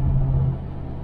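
A 1978 El Camino SS on its first drive in 20 years, with a steady, loud low engine rumble carrying throughout and easing slightly partway through.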